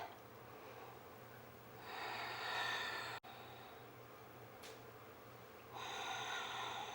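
Slow, deep breathing during a yoga pose, two long airy breaths close to the mic, each rising and easing off, over a quiet room hum.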